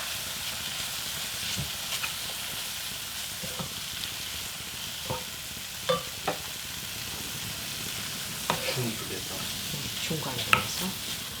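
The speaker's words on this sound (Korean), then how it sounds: "중간에서 이게 볶는 거죠" Pork with gochujang sizzles and hisses in a hot pot, with scattered scraping clicks from stirring over the steady frying noise.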